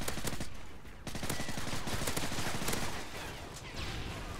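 Dense gunfire in the video game Call of Duty Modern Warfare 3, rapid automatic bursts and shots cracking almost nonstop, fairly quiet overall.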